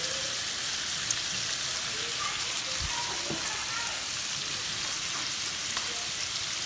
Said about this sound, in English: Just drizzle some extra virgin olive oil into my skillet. I'm gonna just toss these bad boys in.